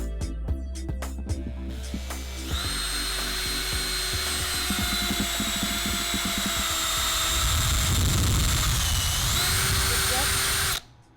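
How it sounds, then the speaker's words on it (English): A power drill, used with a drill guide, whirs loudly and steadily for several seconds while drilling skateboard holes, its pitch shifting slightly, after some clattering handling noises, then stops abruptly. "Now that our holes are marked, it's time to drill."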